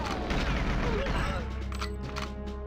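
Tank cannon fire in the video game GoldenEye, a dense run of booming blasts and crashing explosions that stay loud and continuous throughout.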